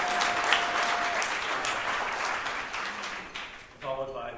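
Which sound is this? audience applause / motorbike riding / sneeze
audience applause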